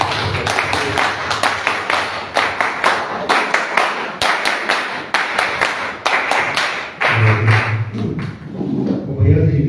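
Strong applause from an audience at a political conference welcomes a speaker, with loud, close, sharp claps running throughout and a voice starting to speak near the end.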